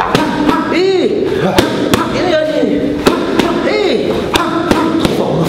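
Boxing punches land as sharp thuds in quick pairs, several impacts striking a pad or bag at close range while a coach's voice talks throughout.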